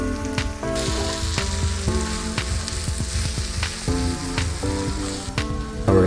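Paprika and black pepper frying in a hot pan for shakshuka, a steady close sizzle with repeated sharp scrapes and clinks of a utensil stirring against the pan, no talking.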